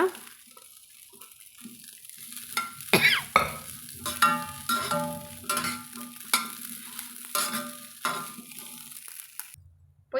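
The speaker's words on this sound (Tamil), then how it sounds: "இரும்பு வானல் நல்லா சூடாக இருக்குங்க அதில் ஒரு ஒரு நிமிஷத்துக்கு நம்ம வதக்கி விட்டுட்டு" Chana sundal is sautéed in a hot iron pan, with a steady sizzle and rhythmic scraping and stirring strokes against the metal, close and fairly loud, ending abruptly.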